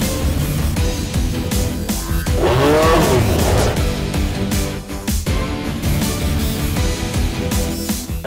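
Loud DTM race cars roar past in a dense blur of engines at a 2015 Moscow race, with a brief squeal of tires midway and constant crowd-like background noise.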